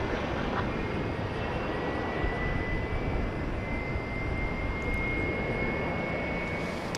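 A UPS Boeing 767 backing out at DFW airport at night produces a steady, loud broadband engine roar that holds without a break and drowns everything else.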